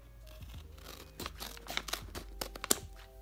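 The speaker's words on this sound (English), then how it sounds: "let's just cut it open right here" A paper squishy blind bag shaped like a bakery treat is cut open up close, with crinkling and tearing paper and sharp snips over a low steady hum.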